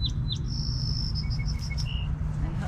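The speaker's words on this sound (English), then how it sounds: "I'm hoping you're hearing those pretty birds singing" Small birds sing in a school garden on a chilly day, high thin chirps and short whistled phrases repeated over a steady low outdoor rumble, moderately close.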